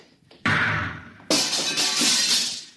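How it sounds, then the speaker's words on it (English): A radio-drama effect of a lock being blasted open: two sudden loud bursts, the second a sharp crash that rings on with crackling, shattering debris. "I'll have to blast the lock."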